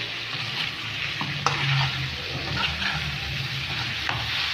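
Chicken, green peppers and onions sizzle in a hot pan while a utensil stirs and scrapes through them a couple of times, a steady close frying hiss with occasional knocks.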